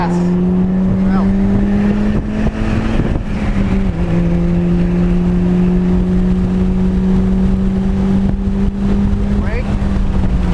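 A 2006 Mitsubishi Evo9 MR engine drones loudly from inside the car on the Laguna Seca track, holding a steady pitch with a brief dip and shift before pulling on again, with a voice talking over it.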